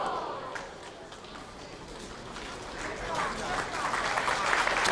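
Crowd at a professional bowling tournament applauding to encourage a bowler, a distant patter of clapping that swells toward the end beneath a commentator's voice.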